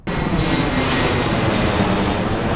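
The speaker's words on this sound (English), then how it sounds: "Another plane going by." A fixed-wing airplane flies overhead, a loud, broad, continuous engine roar that starts abruptly and holds steady, close and alone with no talking.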